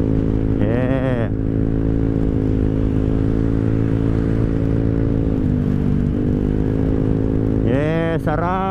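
A Honda Click scooter with a new aftermarket exhaust runs loud and close with a strong steady drone, and sharp throttle blips rev it near the start and again at the end.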